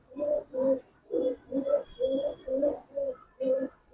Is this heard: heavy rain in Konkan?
no